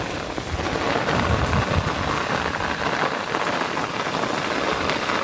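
A steady roar of heavy downpour in the Brazilian Sertão, thick and close, with a low rumble underneath that suggests distant thunder, and no one speaking.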